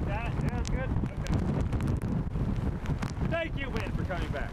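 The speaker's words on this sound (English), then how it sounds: "Thank you, wind, for coming back. That's good. Nice big gust here." Strong wind gusts from Hurricane Sandy roar continuously, buffeting the microphone with loud, rumbling low-end noise, while a person talks over the wind.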